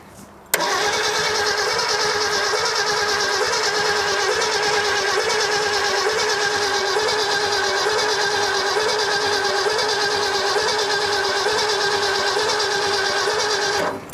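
A 1965 Ford F100 engine cranks and catches, running roughly with a loud, steady sputtering drone as it spits back through the carburetor, close and continuous without a break.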